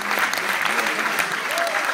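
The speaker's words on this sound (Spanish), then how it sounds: "Y un fuerte aplauso, por favor" A live audience applauds a young performer's debut at a street music school show, dense steady clapping filling the room close and loud throughout.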